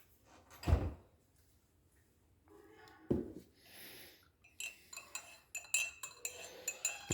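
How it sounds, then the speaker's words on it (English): A metal spoon stirs sugar into a cup of coffee made in an IKEA French press. A couple of knocks come first, then a quick run of rhythmic, bright clinks against the cup, heard close up. "Give a good stir. Let the sugar dissolve."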